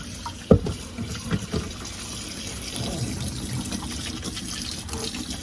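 Bathroom sink tap running to bathe rescued worms, a steady close stream of water with a knock at the start and a few small splashes.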